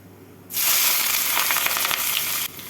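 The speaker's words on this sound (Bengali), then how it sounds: "পেঁয়াজগুলোকে লাল করে ভেজে নেব" Chopped onions drop into hot oil seasoned with cardamom, cloves and cinnamon for chicken kalia, setting off a sudden loud hiss that holds for about two seconds before dropping back.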